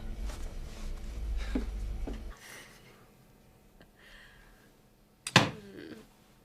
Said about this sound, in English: It sounded like the front door.